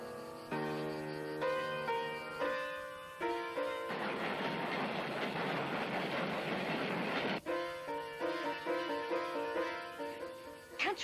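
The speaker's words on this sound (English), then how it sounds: "A train's coming." Loud train horn chords blare, then a heavy rushing roar as the train passes close by, and the horn sounds again afterward.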